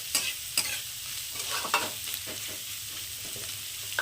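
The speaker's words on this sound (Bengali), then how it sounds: "পেঁয়াজ বিনস গাজর সব একসঙ্গে ভালো করে মিশিয়ে নেবো" Onion, beans and carrot stir-fry together in a pan for egg chicken fried rice, a soft steady sizzle under repeated scraping and tapping of a spatula, close but fairly quiet.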